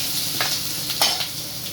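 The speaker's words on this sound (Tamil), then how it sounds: "இஞ்சி போட்டு வெங்காயமும் பச்சை மிளகாயும் போட்டு" Ginger, onion and green chillies fry in hot oil with popped mustard seed and cumin for a banana flower stir-fry, giving a steady close sizzle with a few short stirring scrapes.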